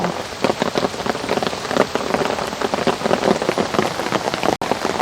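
Heavy rain pours steadily over a garden, a dense close patter on leaves and surfaces that continues without a break, with no voices.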